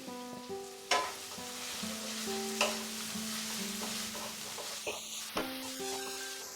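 Chopped capsicum and beans fried with salt in a pan over medium heat, a faint steady sizzle with occasional sharp spatula knocks, a bright clatter near the end, and a low tonal hum running underneath.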